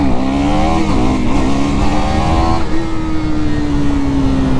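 A Kawasaki Z900 motorcycle on its last group ride, its engine droning loud and close with a steady, slightly rising and falling pitch, plus heavy wind rush, all without talk.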